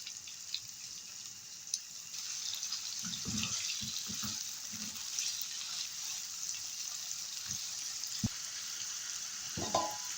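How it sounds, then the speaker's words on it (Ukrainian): Steady sizzling of sausages frying with onion in a pan, with a few louder clatters and stirring knocks over the continuous hiss. "Викидаємо їх до цибульки, щоб вони також підсмажилися."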